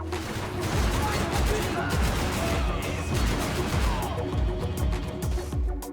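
Sustained automatic fire from the MG, an RPD light machine gun in GTA V, rattles continuously as a rapid stream of shots with sharp, evenly paced bursts throughout, loud and close.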